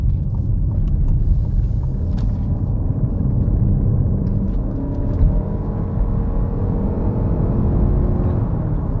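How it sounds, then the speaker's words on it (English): A Ford Kuga ST Line X Edition PHEV drones steadily through its CVT while driving, a constant low engine hum and road rumble from inside the cabin, with no voices. "because this has got a CVT, you will get a bit of droning from the engine"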